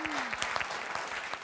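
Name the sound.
audience applause for the quiz finalists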